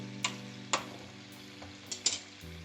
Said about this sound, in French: je vais faire saisir tout doucement et compoter mes cubes de potimarron